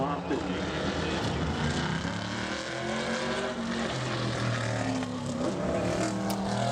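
A modified race car runs laps during qualifying at the Bowman Gray Stadium oval. The engine roars continuously and loudly, with the drone rising and falling, under an announcer's talk.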